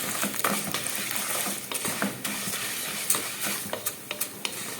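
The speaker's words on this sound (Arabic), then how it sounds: "الشعريه بتاعتي اهي احمر" Vermicelli stirred and browned in a pan for koshari, a soft sizzle under repeated scraping and stirring clicks of a utensil against the pan, close and fairly quiet, with no talking.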